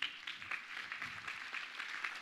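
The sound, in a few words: audience applause at award ceremony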